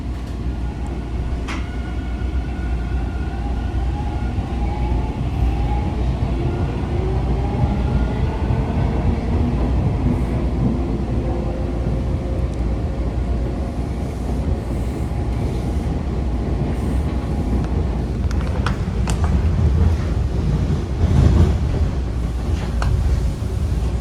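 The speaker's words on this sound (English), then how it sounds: "TTC subway trains." Steady low rumble and rattle inside a moving TTC subway train in Toronto, with continuous track noise, a faint high whine and a brief louder clatter near the end, no talking.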